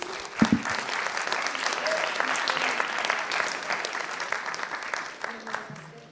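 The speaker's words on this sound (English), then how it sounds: "Give them a round of applause." Conference audience applauding the event sponsors after a cybersecurity panel in Raleigh, a dense, steady clapping from a large crowd that starts abruptly and holds for several seconds before gradually thinning.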